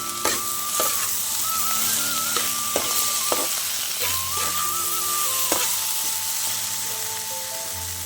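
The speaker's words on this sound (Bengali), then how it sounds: "এটা আমি এখন মোচার মধ্যে দিয়ে ভালো করে নেড়ে চেড়ে নেবো।" Grated potato stirred into banana flower in a frying pan, with a steady loud sizzle and repeated scraping strokes of the spoon, close up and alone without talk.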